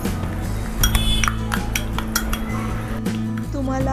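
A spoon clinks and scrapes against a pan while ground masala paste goes into mushroom gravy, steady close metallic taps and stirring over a low background hum.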